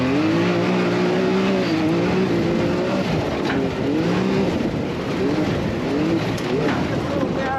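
A moto enduro truck engine revs hard and close, its rising and falling pitch sweeping back and forth with a loud, continuous roar, and voices are heard in the background.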